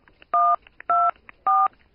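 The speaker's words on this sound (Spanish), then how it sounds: "desde su teléfono, si no le importa, márqueme" Three clear telephone keypad dialing tones, each a steady dual-pitch beep of about a quarter second, evenly spaced with short quiet gaps between them and faint clicks in the pauses.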